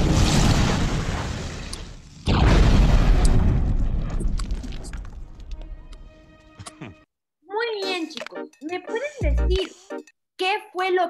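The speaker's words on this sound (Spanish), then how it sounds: "Hizo una explosión." A loud, booming explosion rumbles and roars for several seconds with a brief gap partway through, then dies away before people start talking in short bursts.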